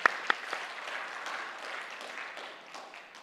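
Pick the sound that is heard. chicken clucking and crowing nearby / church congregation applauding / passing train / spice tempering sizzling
church congregation applauding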